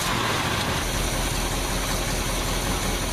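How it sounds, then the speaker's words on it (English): A classic truck's engine idles steadily with a faint exhaust leak near where the pipe joins the muffler, giving a dense, even rumble and hiss with no voices. "I can still hear a little bit of an exhaust leak coming from probably where it attaches to the muffler"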